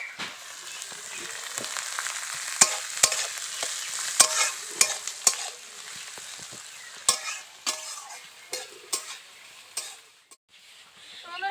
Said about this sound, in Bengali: আলুটা হালকা লাল লাল হয়ে এসছে, তারপর পেঁয়াজ কুচিগুলো দিচ্ছি। এখন একটু নাড়াচাড়া করে নেব।